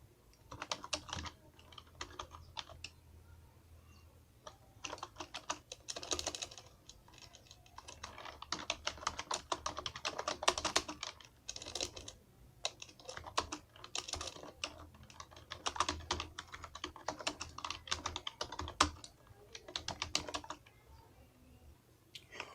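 Rapid, uneven clicking of a computer keyboard as text is typed into an HTML file, with dense bursts of keystrokes and short pauses running nearly continuously throughout.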